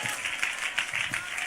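A church congregation claps together in a quick, steady rhythm of sharp hand claps. The clapping sounds close and fairly loud, and a voice can be heard faintly underneath it.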